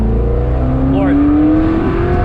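A sports car accelerating at full throttle, a loud, close, steady engine drone whose pitch climbs smoothly throughout.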